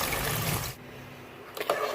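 One and a half cups of reserved chickpea boiling water pour steadily into a pan of masala chana gravy, a continuous splashing rush that stops abruptly, followed by a brief clatter.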